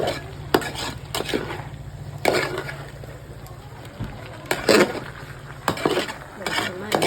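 Coconut oil and curry leaves being stirred into avial, a Kerala vegetable dish, giving scraping, clattering strokes at an irregular pace with a steady hum underneath.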